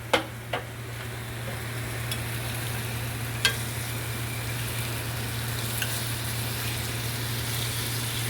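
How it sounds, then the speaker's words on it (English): Bacon sizzles steadily in a frying pan as a continuous crackling hiss, with a few sharper pops near the start and a low steady hum underneath; no one speaks. "we're gonna go ahead and flip our bacon"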